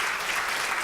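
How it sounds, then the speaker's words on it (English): Applause for a trustee council at a university event, a dense steady wash of clapping that holds evenly loud through the whole brief moment. "we owe a big round of applause to the Trustee Council"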